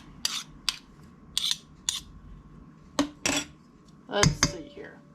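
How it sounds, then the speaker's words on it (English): A spoon stirs a summer squash casserole mixture in a dish. About a dozen sharp metallic clinks and scrapes come close by at irregular intervals, with a short quick cluster near the end. "Just kind of stirring it together."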